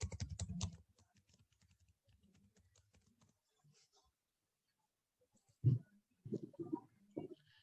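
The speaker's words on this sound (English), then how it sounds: "In chat window, I'm typing that link now." Keys are typed on a computer keyboard during an online programming class, heard as a faint burst of clicks at first, then a few louder clusters of taps near the end with quiet between.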